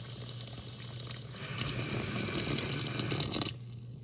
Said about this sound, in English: Gonna walk over, add a little bit of water.